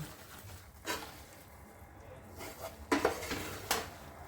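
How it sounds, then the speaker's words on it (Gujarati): Thick mohanthal mixture made with milk is stirred constantly in a pan, giving a few faint, separate scraping and clinking strokes at irregular intervals over quiet background hiss. "તેને સતત કોન્સ્ટન્ટ હલાવતા જવાનું છે"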